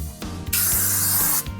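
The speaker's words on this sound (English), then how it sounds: "I take my mic spray and I spray the inside of the entire" A spray bottle sprays mite spray inside a Reptichip tub in one close, loud hiss of about a second, with soft handling sounds just before and after it.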